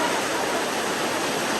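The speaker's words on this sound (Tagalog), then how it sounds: "Grabe, lakas ng ulan." Very heavy rain pouring down in a steady, dense roar, loud and close, continuous without break.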